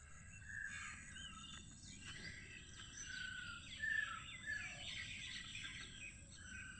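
Birds twitter and chirp all around on a wet, rainy morning among dripping trees, the small calls overlapping at a moderate distance above a low, steady hiss of rain and insects, with no voices.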